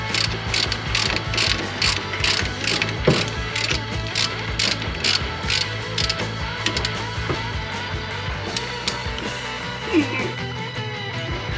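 Ratchet wrench turning a 12mm brake caliper slide pin bolt on a 2002 Honda Accord, a long run of rapid, evenly spaced clicking strokes up close with brief pauses, faint talk underneath.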